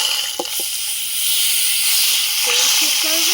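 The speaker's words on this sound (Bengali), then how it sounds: "এই মাখানো মাংসটা এবার দিয়ে দেবো।" Marinated meat going into hot oil, a loud steady hiss and sizzle filling the clip, with a few brief voice sounds over it.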